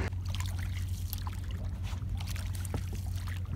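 A boat moving through waves on a day trip to Golap Gram, with a steady low engine-like hum under a continuous broad wash and splash of water, close and even throughout.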